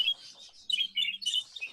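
A budgie chick in an aviary gives a run of thin, high chirps in quick bursts, close and fairly faint, with no voices.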